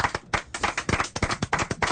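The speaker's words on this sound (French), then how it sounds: "bravo, on applaudit" Applause during a French studio talk show with a darts game: a few hands clapping close and loud in uneven bursts, with brief gaps between them, lasting about two seconds.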